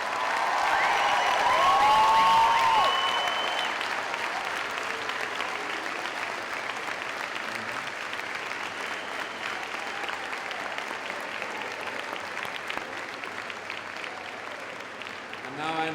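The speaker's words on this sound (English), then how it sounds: "I ask your friends and family to join me in applauding the graduating class of" Friends and family at a Simon Fraser University fall 2006 convocation applaud the graduating class, a broad roar of clapping that peaks early and then settles into a long, steady wash filling the hall.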